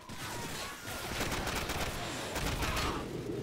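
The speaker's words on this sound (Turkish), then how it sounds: "Adamlar roket attı Rıza baba" Dense gunfire with rocket blasts from a Call of Duty Modern Warfare battle, a loud continuous fusillade of rifle and machine-gun bursts with explosions layered throughout.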